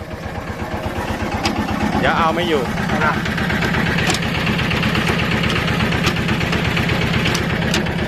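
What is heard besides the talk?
old Yanmar 11 hp walking tractor engine running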